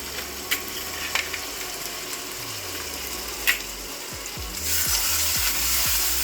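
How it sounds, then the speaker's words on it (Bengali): Mutton frying in a pan with cumin paste and turmeric gives a soft, continuous sizzle, with a few faint clinks and stirring sounds, then a louder hiss of frying near the end; no one speaks. "দিয়ে ভালো করে কষাতে নেব।"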